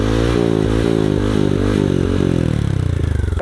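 A Future motorcycle engine is started and runs close by with a loud, steady, throbbing idle, rising slightly and turning rougher near the end.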